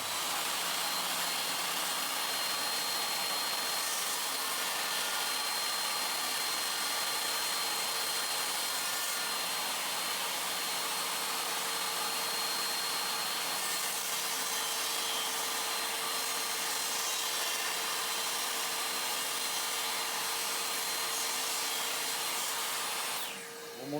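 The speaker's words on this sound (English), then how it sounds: "when we run the saw through this time, it's going to make each side a little wider" A table saw runs steadily through a wooden board for a widening pass on a DIY shoe and coat rack, a continuous close, even buzzing whine that holds alone without talk before cutting off at the end.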